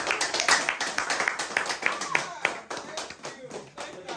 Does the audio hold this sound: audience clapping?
yes